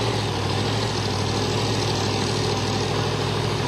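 The supercharged Atlanta Speed Shop drag racing car sits in the left lane at Silver Dollar Raceway, its engine a loud, steady, deep rumble and roar with no pauses.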